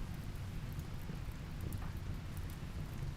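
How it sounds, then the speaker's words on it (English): Heavy rain in the Rimworld video game, a steady dense hiss of rainfall with low rumbling underneath, constant and moderately quiet throughout. "it's raining a lot."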